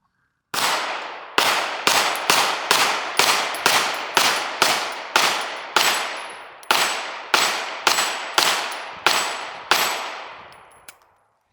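Fusion XP Pro pistol firing regular ammo: about seventeen loud, sharp shots in a steady, evenly spaced string, each ringing out briefly before the next, with no talking.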